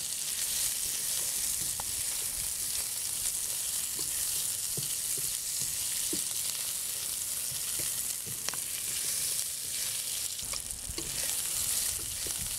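Cod fillets brown in a frying pan with a constant crackling sizzle, broken by faint scrapes and clicks of stirring throughout, heard up close with no voices.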